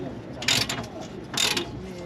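A wrench works a fitting loose in two short ratcheting bursts. The clicks are close and crisp, with quiet mechanical rattle between them.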